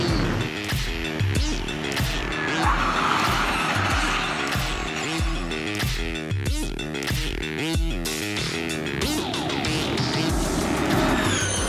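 Formula E single-seater race car with a five-speed gearbox accelerating hard, a loud continuous high-pitched electric whine rising and shifting in pitch, heard close throughout.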